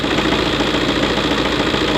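A car engine idles with a steady low rumble and slight knocking vibration during sensor testing with a multimeter, even and close, with no clear rev rise across the short stretch.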